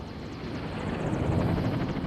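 Airwolf, the attack helicopter, roars with a steady, loud rotor and engine drone that swells slightly as the chopper pulls into a vertical climb over the Pacific.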